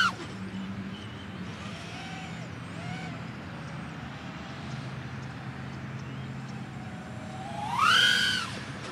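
The motors of a Diatone GT-R349 3-inch micro racer drone whine with thin, wavering tones over a low rumble, then surge to a loud rising scream near the end as they hit full throttle.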